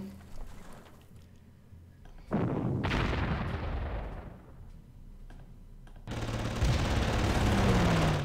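Artillery blasts and gunfire from the strategy war game Panzer Corps arrive in sudden loud bursts of crackling explosions separated by quieter stretches, with no talking.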